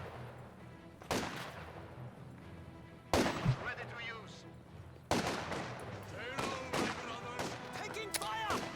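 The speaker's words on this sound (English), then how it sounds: "there goes Mmarttool with the MG42. He's able to get it going" MG42 machine gun bursts in a competitive one-on-one match of an online war game, several loud cracks and rattling volleys at intervals, with distant gunfire and a commentator talking over the action.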